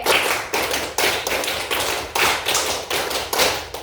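A class of middle school students claps together in a counted pattern, sharp loud bursts in groups repeating about every half second, close and dense, with no voices over them.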